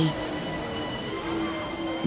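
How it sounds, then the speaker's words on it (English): Steady rain hisses as an even, dense wash of falling drops, continuous and fairly loud over two seconds with a faint hum underneath. "Suddenly, there's a wall of rain in front of the dragons."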